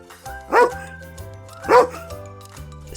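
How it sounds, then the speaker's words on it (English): A dog barks twice, two short sharp barks about a second apart, over a steady musical background. "dog,"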